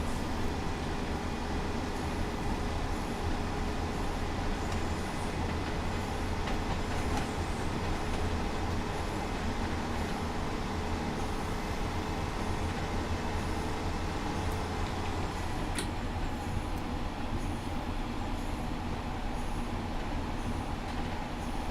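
Freight train approaching on the West Coast Main Line between Preston and Carlisle in a train simulator game, a steady loud rumble with rail noise and engine drone throughout, building slightly, no talking.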